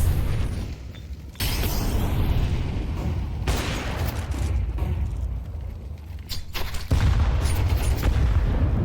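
Grenade blasts in a competitive video game match, several heavy booming explosions separated by short gaps, loud and close over a continuous rumbling game background.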